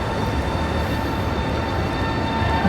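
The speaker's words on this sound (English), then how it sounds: "It's an Italo train." An Italo high-speed train at Turin station, heard from a hillside above as a steady, broad rumble of rail noise that holds even and unbroken throughout, with no voices.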